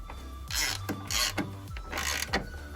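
Self-tapping screws driven by a power tool into the inner fender apron of a Ford F-150 truck, forming their own threads: three or four bursts of rough mechanical whirring and grinding, close up, each ending as the screw seats.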